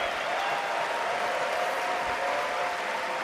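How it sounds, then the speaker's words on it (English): A large arena audience at The International 2025 Dota 2 grand final applauds short film contest entrants, a steady unbroken wash of clapping throughout. "give a round of applause to everyone that submitted for the short film contest this year"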